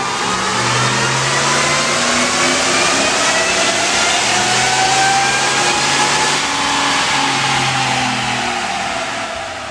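A 2013 Hennessey VelociRaptor SUV's Ford 6.2 liter V8 with a TBS 2300 supercharger, making about 600 horsepower, produces a loud, sustained drone. A whine climbs slowly in pitch over it as the engine revs.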